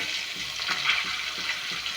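Chili powder and turmeric frying in a curry pan with green chilies, a dense steady sizzle with rhythmic stirring scrapes, close and without talk.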